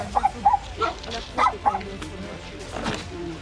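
A household dog barks in several quick, close yips and woofs, a cluster of sharp barks early followed by fainter ones, with people talking around it.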